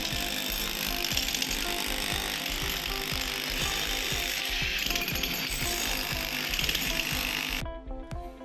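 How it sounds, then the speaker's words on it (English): Demolition of a parapet wall and plaster removal on a terrace, heard as rapid repeated chipping and hammering blows with a rattling, ratchet-like mechanical texture, steady and close throughout before briefly easing at the end. "we started to demolish parapet wall and remove plaster on terrace"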